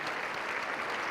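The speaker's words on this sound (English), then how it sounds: "give them a big round of applause" A banquet audience applauds in a brief, steady burst of dense clapping at moderate distance.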